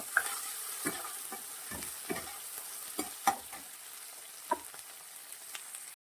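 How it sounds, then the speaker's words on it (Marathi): Tomato filling stirred and sautéed in a pan on low gas, a steady soft sizzle with intermittent scraping stir strokes for a Marathi tiffin mixed lentil vegetable dish. "टमॅटो मस्त असा परतून घ्यायचा आहे हे सारण लो गॅसवर व्यवस्थित परतून घ्यायचं आहे"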